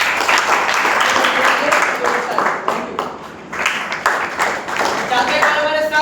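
A live audience applauds at a meeting in honour of a mentor, Dr. Rajaram Tripathi, as a steady wash of clapping runs throughout, mixed with voices and crowd murmur.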